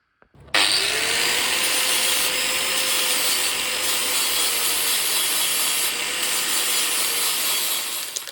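Grinding stones work over exhaust welds on a three-inch exhaust for a Volvo 940 turbo, a sustained harsh abrasive rasp that starts abruptly and continues at steady strength until cutting off near the end.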